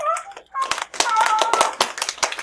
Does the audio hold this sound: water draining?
no